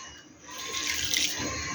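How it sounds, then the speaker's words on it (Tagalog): Water poured into okoy batter for a Filipino fritter, a steady close trickle in a kitchen that swells through the middle of the short pour, with no talk. "malagyan natin ng konti pang tubig. Another 1/4 cup ng tubig."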